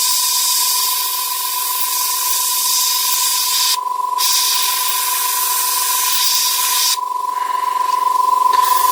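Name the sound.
airbrush spraying paint on a model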